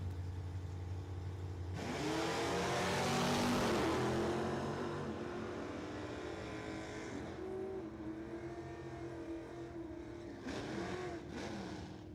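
Drag race cars, a 1959 Chevrolet El Camino against a Plymouth Satellite, roar down the strip at a Wisconsin dragway, their engine noise swelling and fading at a distance, with a shorter, fainter burst near the end.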